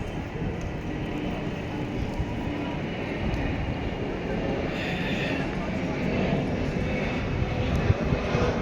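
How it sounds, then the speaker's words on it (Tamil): A fixed-wing airplane flying overhead above the high street in Hounslow, London, giving a steady broadband engine roar that builds slightly, heard continuously outdoors against street ambience. "இது 3வது ஃப்ளைட்டு நம்ம வீடியோ எடுக்க ஆரம்பிச்சதுலேருந்தே."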